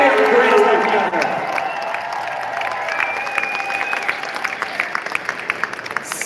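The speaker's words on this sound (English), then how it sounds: "please give a round of applause to our friends at Lucasfilm who make this possible" Convention crowd at a Star Wars: The Old Republic cantina event in Chicago applauds, with scattered clapping and some cheering around a speaker's amplified voice.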